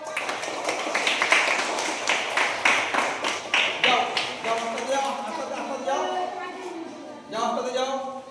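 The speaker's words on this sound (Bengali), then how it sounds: "সবাই হাততালি দাও।" A small crowd claps together at a ribbon-cutting ceremony, a burst of fairly close, rhythmic hand claps in the first few seconds that fades into overlapping voices talking.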